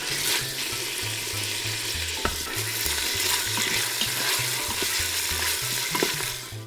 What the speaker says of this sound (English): Our pancetta is almost cooked.